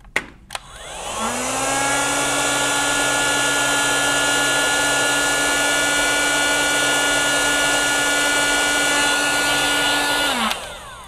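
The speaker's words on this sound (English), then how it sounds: "I'm going to take the heat gun, and where is my heat shield? Here's my heat shield. And I'm just going to heat it up a little." A heat gun warms a part of a 1920s Monroe model K mechanical calculator, switching on with a click and a rising whine, then holding a loud, steady blowing drone for about nine seconds before cutting off.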